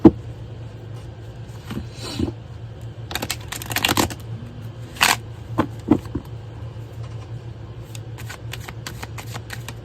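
Tarot cards being shuffled and handled up close, bursts of riffling and flicking separated by short pauses, over a low steady hum.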